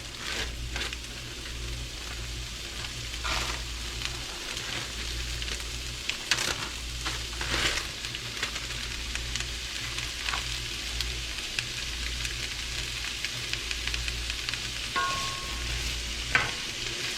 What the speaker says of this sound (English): let this cook down and become translucent, and that is going to take a moment